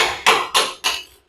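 Three sharp, loud cracks in quick succession as ceramic tile snaps in a cutter, each fading quickly.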